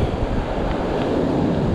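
Wind gusting into a camera microphone beside a river, a steady close rumbling buffet that roars throughout with no break, alone and without voices.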